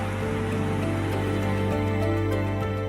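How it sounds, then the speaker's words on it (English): Heavy night-time rain in Italy pours down as a dense, unbroken hiss, steady and loud throughout, with a low constant hum underneath. "Italy is raining heavily tonight."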